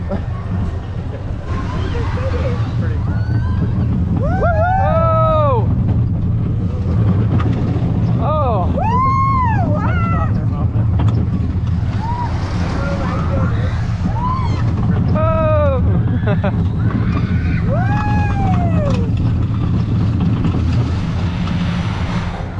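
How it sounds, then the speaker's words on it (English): Speed Rockets roller coaster at the Jardin d'Acclimatation theme park in Paris, with a steady roar of wind and track rumble throughout and riders letting out repeated rising and falling yells and whoops close to the microphone. "That was a ride on Speed Rockets, which I have to say, very surprisingly fun ride"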